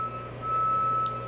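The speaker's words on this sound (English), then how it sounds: "If you hear that loud beeping noise going on behind me, that's a cleanup crew, a power restoration crew" Power restoration crew truck backing up at a fire cleanup scene, emitting a steady high reversal beep tone under constant engine and street noise.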